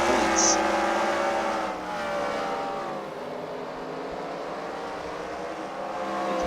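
Race cars at a demolition-style oval event at the Freedom Factory, engines droning and shifting pitch as they circle the track, fairly loud and continuous, with a commentator's voice over the engines.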